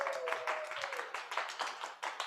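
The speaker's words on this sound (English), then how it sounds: "Round of applause for Adam" Scattered clapping from a few participants in a Zoom video meeting, a thin run of separate claps over about two seconds with a faint steady tone underneath.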